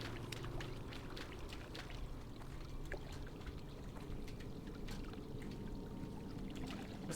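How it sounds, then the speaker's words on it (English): Water flows steadily through a cavern in World of Warcraft as a continuous rushing, trickling wash, fairly quiet and unbroken, with small splashy ticks on top and no voices. "See where the water's coming down back here?"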